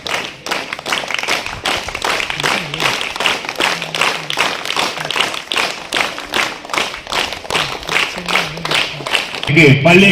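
Audience at a district education event in Nagapattinam clapping, steady rhythmic applause from a crowd in a hall, fairly loud and continuous, with voices heard faintly through it.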